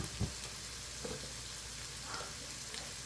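Spice masala for an egg bhuna sizzles quietly in a pan, a soft, steady frying hiss with a few faint clicks of stirring, heard alone.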